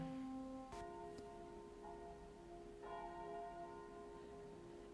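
Church bells ring out with a few strikes whose tones hang and fade, soft and somewhat distant, with no voices.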